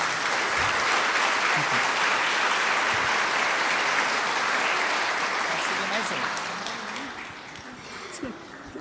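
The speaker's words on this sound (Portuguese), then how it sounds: "Uma salva de palmas para a mamãe, meus irmãos." Warm applause from a church congregation at a priest's tenth ordination anniversary, honoring his mother, steady then thinning out toward the end, with a few scattered voices underneath.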